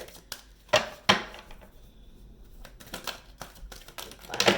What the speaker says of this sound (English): one last shuffle on the Oracle cards, and then we can get to it, because the shuffle has been quite a long shuffle